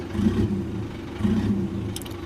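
Car engine noise rises and falls in two mid-level surges as an electric throttle controller box plays its second turbo blow-off setting. A brief high hiss comes near the end, with no talking.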